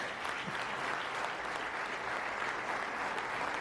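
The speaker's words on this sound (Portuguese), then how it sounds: "Vamos aplaudir o Senhor." Church congregation applauding during a worship service, steady dense clapping from many people throughout, moderately distant and even, with no voices standing out.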